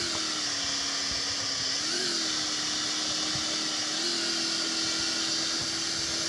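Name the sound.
motorbike engine while riding, video game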